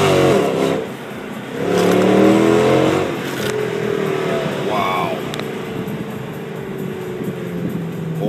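A Mercedes-AMG car accelerates hard in second gear with its wheels spinning, a loud close engine roar that swells and eases under excited talk from people inside.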